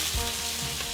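A brief, steady sizzle of frying in a pan while Udupi-style gulla huli (bolar huli) is cooked, close and continuous with no talking.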